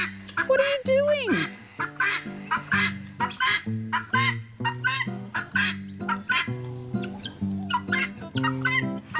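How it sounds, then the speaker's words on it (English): Chickens and cockatoos gather around a bucket of chicken food, with repeated clucks and squawks in an uneven rhythm and one rising and falling screech near the start, close and fairly loud. "The chickens are all horrified that those cockatoos are in here."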